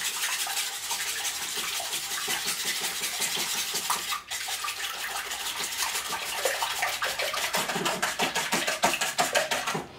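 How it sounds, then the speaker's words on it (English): A cayenne seasoning mixture being whisked in a bowl, rapid rhythmic scraping strokes that run continuously and grow a little louder and more vigorous toward the end. "we're gonna whisk this together"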